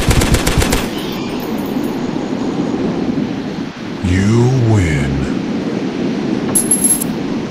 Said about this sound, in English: Shot.